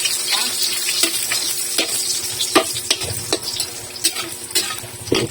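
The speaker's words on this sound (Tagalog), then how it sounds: "Mainit na yung mantika, pwede natin lagay itong dilis. Pikrituhin lang natin yan." Small dried anchovies (dilis) fry in hot oil, giving a steady broadband sizzle while a utensil stirs them, with scraping strokes recurring every half second or so. No one speaks.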